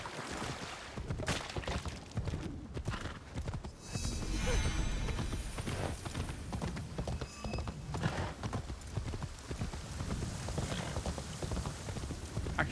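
A horse gallops in Assassin's Creed Shadows, its hooves giving a rapid, steady clip-clop under rain-like patter, with a brief whinny and a loud mix of game ambience.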